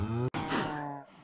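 A Minecraft cow lets out a single short, close moo, breaking off briefly in the middle before trailing away.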